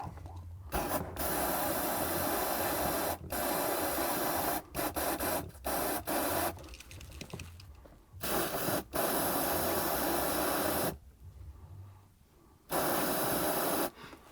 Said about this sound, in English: I'm just going to go ahead and spray some penetrating fluid on it